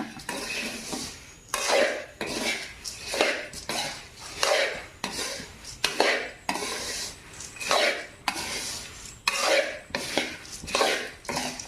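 A utensil repeatedly scrapes and stirs stale puffed rice in a dry pan, a steady rhythm of rough, brushing strokes roughly every second, close and moderately loud with no talking.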